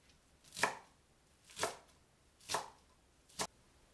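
Green onion and cilantro are cut into sections with a knife on a board, four separate crisp chops spaced about a second apart, close and quiet, with nothing else audible.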